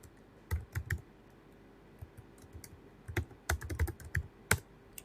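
Quiet clicks of typing on a computer keyboard while entering text in the VI editor on a Linux machine, arriving in short irregular bursts of keystrokes separated by brief pauses.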